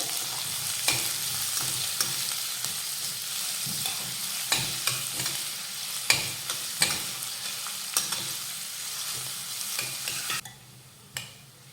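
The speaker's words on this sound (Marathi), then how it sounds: "मंद ते मध्यम आचेवर आपण हा कांदा परतून घेऊयात" A medium chopped onion sautés in oil in a pan over low to medium heat, a steady sizzle with regular scraping clicks of stirring that fade out near the end.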